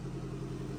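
A turbocharged Nissan 370Z engine runs at a steady, loud low rumble, its even drone close up with no talking over it.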